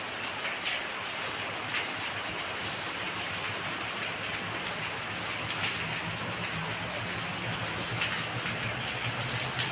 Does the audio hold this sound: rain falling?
yes